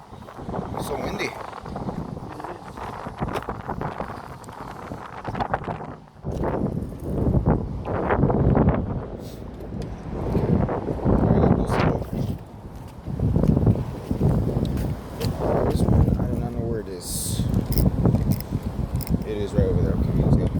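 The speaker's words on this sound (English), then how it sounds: "It's so windy." Gusty wind buffets the microphone outdoors on a fishing trip by the water, rising and falling in strong bursts under frequent close conversation.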